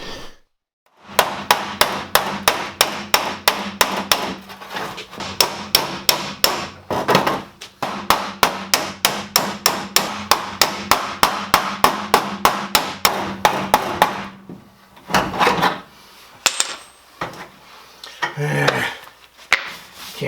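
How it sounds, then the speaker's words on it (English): A hammer and dolly strike car body metal on a G-body Cutlass in a fast, steady series of sharp ringing blows, pausing briefly, then a few scattered taps follow. "I need to try a hammer and dolly and stretch this area back out"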